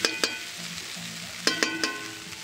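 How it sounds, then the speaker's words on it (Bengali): Peanuts are stirred into flattened rice pulao frying in a pan, giving a light sizzle punctuated by several crisp metallic spatula clinks in quick pairs, close by and with no talking. "ছিলাম সেই বাদামটা এর মধ্যে উপর থেকে ছড়িয়ে একটু নাড়িয়ে চাড়িয়ে নেবো।"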